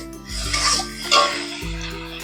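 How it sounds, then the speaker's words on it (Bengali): A spice paste being fried and stirred in a pan for a crisp vegetarian chichinga (snake gourd) pakora dish, with a few scraping, rubbing strokes of a spoon against the pan over a low steady background. "দিয়ে ভালো করে ভেজে নেবো মশলাটা"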